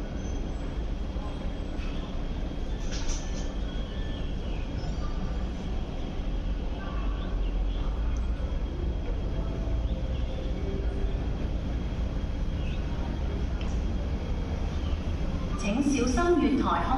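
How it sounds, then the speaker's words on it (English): MTR East Rail Line R-train passing non-stop through Sheung Shui Station, a steady, loud rumble that holds throughout and swells slightly near the end, with a station announcement voice heard over it. "A non-stop train is passing through the station."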